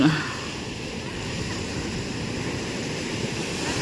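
Steady broadband wash of ocean waves and surf breaking offshore, continuous and fairly loud without distinct individual crashes, with a faint voice briefly at the very start.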